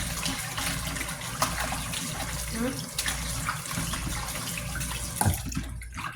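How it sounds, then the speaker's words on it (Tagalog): Warm water pours steadily from a hand pump, a continuous gushing splash with occasional clunks and faint voices in the background. "Mainit na yung tubig dito ngayon sa poso"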